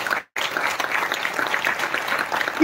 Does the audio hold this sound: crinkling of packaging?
no